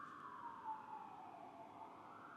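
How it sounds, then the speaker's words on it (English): Emergency sirens outside in New York City, a faint, steady wailing tone that drifts slowly downward and back up, distant and muffled, heard alone. "The sirens."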